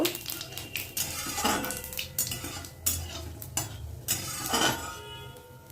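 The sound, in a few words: bay leaves and whole cumin tempering being stirred in hot oil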